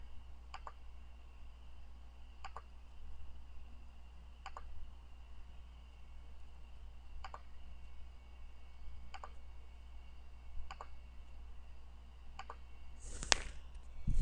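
A computer mouse clicked once at a time while painting in Photoshop, about seven faint, evenly spaced single clicks over a low steady hum, then a louder sharp knock near the end.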